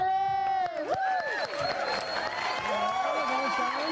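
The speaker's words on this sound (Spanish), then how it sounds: "¿por qué no les damos un aplauso, gritos y lo que quieran?" Audience applause and cheering for singer Vale at an album launch, with a sung or sustained voice and talk running over the crowd noise throughout.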